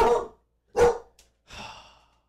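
A dog gives three separate barks, each short and forceful with a gap between, close and loud in an otherwise quiet room.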